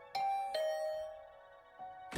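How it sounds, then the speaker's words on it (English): A doorbell chime in the video game The Hundred Line -Last Defense Academy-, two clear bell tones struck in quick succession, each ringing out and fading, then a third tone near the end, alone with no talk. "I just returned to my room when the doorbell rang."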